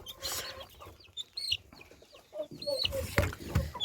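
Forty-day-old Ross 708 broiler chickens cluck and squawk nearby in short bursts, several birds overlapping, with some shuffling noise in the background.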